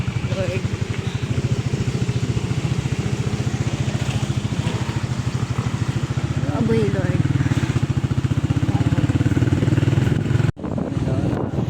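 Motorcycle engines on a muddy, waterlogged rural road, a close steady throbbing drone, with people talking over it and a short drop in sound near the end.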